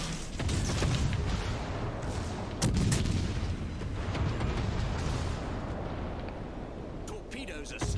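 Naval gunfire from the battleship Massachusetts in World of Warships Legends, heavy booming salvos over dense, continuous rumbling battle noise, with someone talking over the action.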